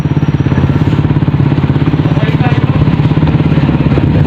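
A motorcycle engine putters in a fast, even pulsing beat, close and loud, on a trip out toward the beach to gather mussels, with people talking over it.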